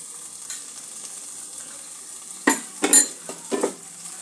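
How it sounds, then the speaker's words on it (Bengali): Boiled chana dal being mashed in a pot for kachori, with a quiet scraping start followed by a cluster of sharp metal clinks and scrapes of a utensil against the pan. "ডালটা একটু ভালো করে ম্যাশ করে নেব।"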